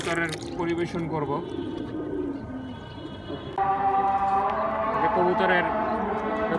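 Pigeons coo steadily throughout at close range, with continuous voices talking over the birds the whole time.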